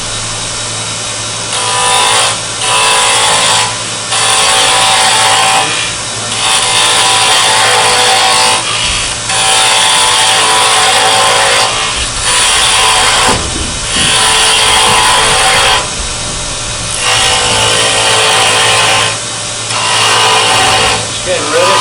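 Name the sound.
spindle gouge cutting wood on a lathe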